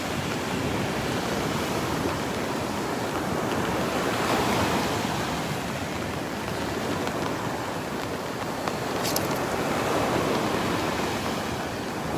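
Ocean surf at Delnor-Wiggins beach, waves breaking in a continuous loud wash of rushing water with gentle swells in intensity, mixed with some wind, no voices.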